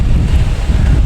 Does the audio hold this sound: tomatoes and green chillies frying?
no